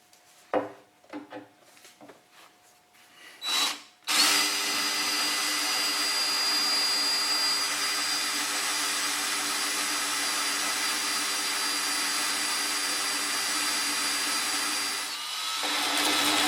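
A power drill bores holes into a workpiece for a Highland Park Everclean install, with a few short bursts of handling noise before a loud, steady drilling whine runs without a break for about eleven seconds, then tapers off.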